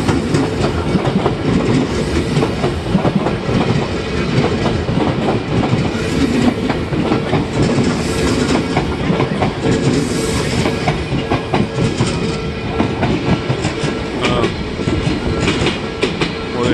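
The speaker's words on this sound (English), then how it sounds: "Well, there's 2 trains, that's why." Trains rumble past continuously with steady clickety-clack of wheels on rails, loud and close, with occasional higher screeches over the dense mechanical roar.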